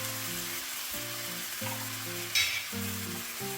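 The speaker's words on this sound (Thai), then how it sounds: "เนื้อกับน้ำก็ใส่ไปหมดทั้งกระป๋องแล้วก็เริ่มผัดได้เลยนะครับ" Chinese kale stir-fried with canned fish and its sauce in a pan, giving a steady hissing sizzle with light stirring scrapes, mostly masked by prominent background music.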